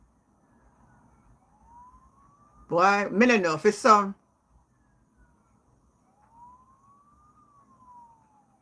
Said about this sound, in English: You hear one ambulance that come down the road for you.